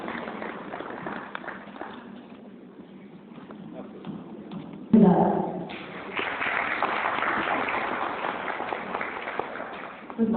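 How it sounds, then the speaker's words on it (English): An audience at an indoor women's day session applauds, a dense patter of clapping that starts quietly, jumps up sharply midway and then holds steady and fairly loud. The sound is muffled and band-limited. "Let's have a huge round of applause everyone for Mr. Tushar Mehta."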